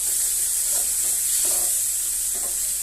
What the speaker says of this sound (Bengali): মশলাটাকে ভালো করে আপনারা ভেজে নেবেন, নইলে তরকারির স্বাদ থাকবে না।